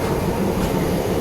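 Bangalore-Howrah Duronto Express train at Vijayawada Junction railway station, a loud, steady low rumble of rolling railway cars heard up close with no talk.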